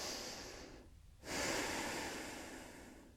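Slow, deep breath during a gentle foam roller yoga routine for the upper back and arms: a long airy inhale, a brief pause, then a fuller exhale close to the mic, with no talking.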